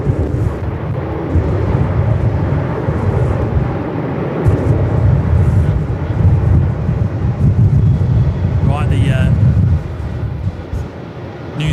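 A Singapore airliner taking off and climbing at Melbourne Airport in 45+ knot winds, a loud, steady engine roar mixed with heavy wind buffeting on the microphone, persisting and fading slightly near the end.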